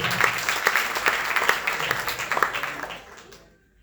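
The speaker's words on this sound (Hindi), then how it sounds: "जोरदार तालियां सबके लिए" An audience at an Arya Samaj annual celebration bursts into loud applause, a crowd of hands clapping briskly with sharp individual claps standing out, then tapering off and fading to silence near the end.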